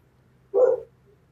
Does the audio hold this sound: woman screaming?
no